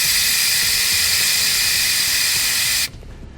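Air hisses loudly and steadily as a Firestone Air Command heavy-duty compressor relieves pressure, then cuts off abruptly near the end.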